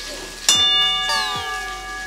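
A metal kitchen utensil struck twice while cooking, each hit ringing out like a small temple bell with a bright, sustained metallic tone that slowly decays, close and fairly loud.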